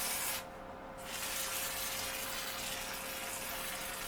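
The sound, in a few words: wetting 800 grit wet and dry sandpaper with water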